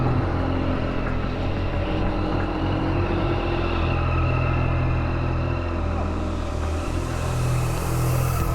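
A Yamaha MT-09 SP motorcycle being ridden, heard as a steady, loud engine drone mixed with heavy wind rush that continues throughout with no talking.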